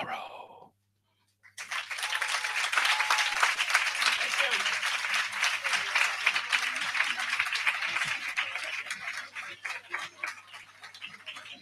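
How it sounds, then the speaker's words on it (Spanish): Audience at a poetry slam in Mallorca bursts into sustained applause after a brief silence, dense clapping that fills the room and slowly thins toward the end. "Un fuerte aplauso para Jim."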